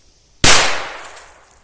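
A single loud, close DUM BUM SILVER P7A14 firecracker goes off with a sharp crack, followed by a ringing decay that fades over about a second after a brief silence.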